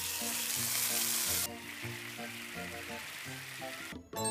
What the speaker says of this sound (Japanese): フライパンを熱してサラダ油をたらり。